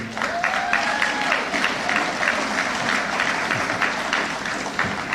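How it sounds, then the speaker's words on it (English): Sustained audience applause at a lecture, dense and steady, with a thin whistle rising near the start. "Please, another round of applause for Elaine Brown."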